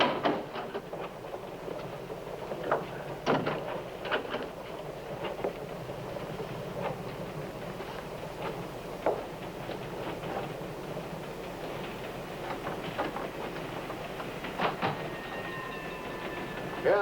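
Train travelling on rails, rolling along with a faint, steady rumble and irregular clickety-clack knocks of the wheels, with a brief whistle-like tone near the end.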